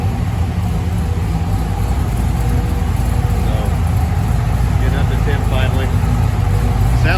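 A Ford Thunderbird Foxbody with a 5.0 Trickflow V8 runs steadily nearby, its loud, continuous low rumble holding even throughout, with a faint higher whine near the end.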